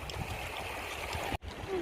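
Water in a stream in North West England splashes and trickles close by, a steady burbling flow with a brief sharp dropout near the end.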